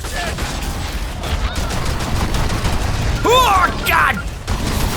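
Gunfire rattles in the Evolve video game, dense rapid bursts of weapon fire mixed with mechanical effects and whooshing tones, with a voice exclaiming over the shooting.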